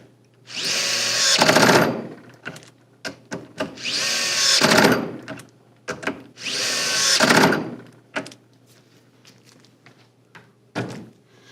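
An Atlas Copco Tensor Pulse tool runs three loud fastener rundowns, each a sustained whirring burst of about a second and a half, separated by short clicks and knocks, with a brief fourth burst near the end.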